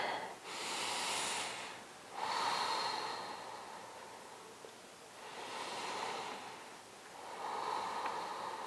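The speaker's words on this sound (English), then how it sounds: "Take 2 more deep breaths." Slow, deep breaths during a vinyasa yoga session, four long audible inhale-exhale cycles with soft airy hiss, close and steady, no talking.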